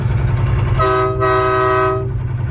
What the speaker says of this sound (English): Train horns sound awesome.